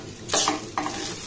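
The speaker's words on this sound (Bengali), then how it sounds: "আবার এটাকে একটু নাড়াচাড়া করে নেব।" A vegetarian filling spiced with garam masala being stirred as it fries in a pan, two quick bright scraping strokes over a soft sizzle, close and loud.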